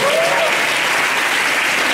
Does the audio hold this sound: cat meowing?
no